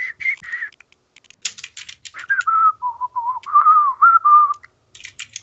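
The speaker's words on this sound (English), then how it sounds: "I look for whoever's whistling because you're whistling." Several people whistling short melodic phrases at a revels gathering, rising and falling tones in bursts mixed with light clicking noises, fairly clear and near without any talk.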